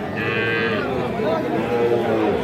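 Bull calves, desi and Sahiwal, lowing at a busy Bangladeshi cattle market, a couple of close moos over steady crowd murmur and background noise.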